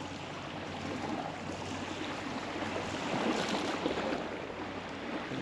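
Gentle seawater lapping and sloshing against the shore at Swanage, a steady soft wash with small irregular splashes, no voices.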